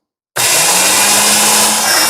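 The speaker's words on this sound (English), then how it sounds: "we're going to plop this over into our food processor. Pop our lid back on here, and we're just going to puree this." A food processor pureeing Fatali peppers and pear for hot sauce starts abruptly after a short silence and runs as a loud, steady whirring motor with no talk.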